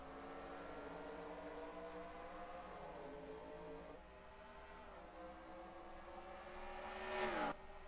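Stock cars racing at Bristol in the NASCAR Racing 2003 video game, a pack of engines droning and rising in pitch together, then one car sweeping past loudly near the end.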